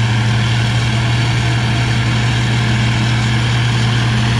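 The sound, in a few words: International 802 Uni forage chopper diesel engine idling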